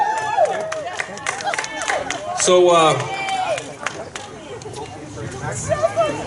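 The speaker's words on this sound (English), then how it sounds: "applause" Audience applause and cheering at a Rotary year-end gathering, a busy wash of clapping under crowd chatter and a voice speaking.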